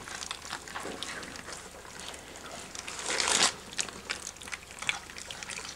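Puppies eat food noisily at a country cottage, a close, irregular run of wet smacking, lapping and crunching bursts at low level.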